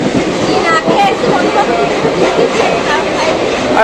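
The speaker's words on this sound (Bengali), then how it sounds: "চলে যাচ্ছে ট্রেন কিন্তু একদম রাইট টাইম" A train departs with a loud, continuous rumble and rhythmic wheel clatter close by, while voices murmur faintly underneath.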